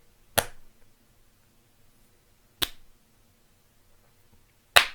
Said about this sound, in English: If we're going to clap the quarter note, it'll sound like pretty much like this